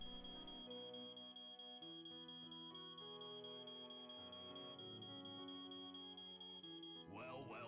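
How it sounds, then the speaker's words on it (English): An alarm in a Nancy Drew mystery game sounds as one high, steady, piercing electronic tone held for several seconds over layered background music, ending as a warbling tone sweeps in. "The alarm's going off."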